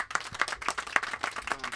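Applause on the Vestrock Cruise for a singer: a fairly small group clapping close by, with distinct, slightly irregular claps coming in quick succession.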